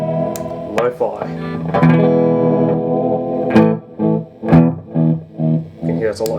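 Distorted heavy-metal electric guitar runs through an MI Effects Lofi delay pedal, with loud, dark, repeating echoes trailing a series of chord stabs and picked notes that swell and decay in pulses.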